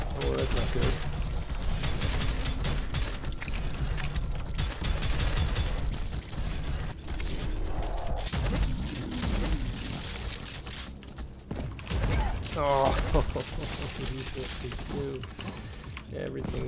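Rapid game gunfire from the shooter Prodeus on the Cold Storage community map, played on Ultra Hard, crackling in dense bursts through a busy mix of mechanical clatter and effects, with speech mixed in.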